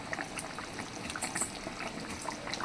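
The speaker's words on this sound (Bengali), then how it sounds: "এবার এই মাছটা ভালো করে ফুটে যাক।" Chetal fish simmering in a poppy seed curry, a steady close wet bubbling and sizzling hiss with small liquid pops throughout, no voices.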